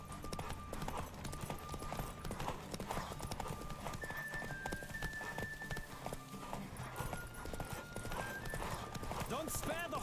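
A horse gallops in a race in the video game The Witcher 3, its hoofbeats clip-clopping rapidly and steadily throughout, layered with game music and voices.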